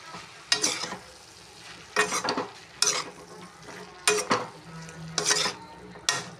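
Vegetable poriyal frying in a pan, stirred with a utensil in a handful of bursts that scrape and clatter over a steady low sizzle, close and fairly quiet, with no talk.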